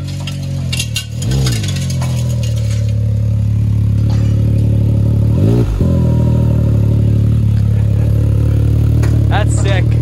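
A custom 4x4 side-by-side rolling on metal tires, its steady mid-pitched engine drone running continuously, with rough clattering and a few revving surges layered over the hum.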